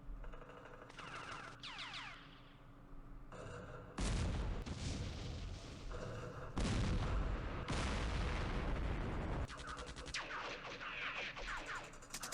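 Gunfire and artillery from the Campaign Series Middle East war game, set at Gebel Libni, sound as a series of harsh booming bursts and rattling volleys, some sustained for a second or two, at a low overall level.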